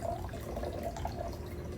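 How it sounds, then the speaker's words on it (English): Water being poured into a measuring container, 500 milliliters for a strawberry DNA extraction, a steady low splashing and trickling that runs unbroken throughout, close by with no talk. "I need 500 milliliters of water. So I'm gonna go ahead and pour that into here until I'm at the 500 mark."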